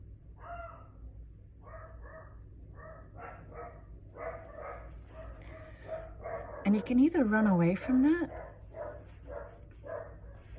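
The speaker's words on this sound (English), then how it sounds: "the dogs are going crazy outside" Dogs bark outside in short repeated bursts under a person talking, then one dog's louder, closer bark and whining yelps rise briefly in the middle before the talk carries on over fainter barking.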